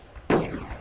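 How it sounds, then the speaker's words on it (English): A single sharp firework bang in the game Human Fall Flat, sudden and loud, trailing off into a brief crackling decay with no speech. "That is some pretty tasty fireworks."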